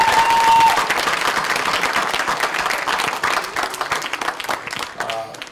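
Audience applause at the BarcampEVN18 closing and awards ceremony, a dense steady clapping from a large crowd over several seconds, loud at first and slowly thinning, with a tone or voice briefly audible at the start.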